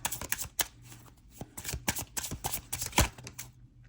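Tarot cards being shuffled and laid out, giving a string of quick, close papery snaps and slaps with an irregular rhythm and one sharper slap near the end.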